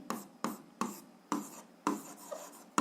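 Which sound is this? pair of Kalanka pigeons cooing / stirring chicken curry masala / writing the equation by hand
writing the equation by hand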